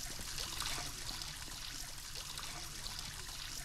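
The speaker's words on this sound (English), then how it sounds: "I'm going to wash my hands." Steady running water pouring and trickling for hand washing in the Roblox game Brookhaven, a continuous hissy stream without pauses or voices.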